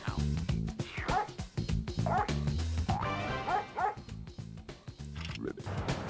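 Barking dog in the Frogger video game on PlayStation, a run of yips and bow-wows repeating about every second over steady game music, loud and close.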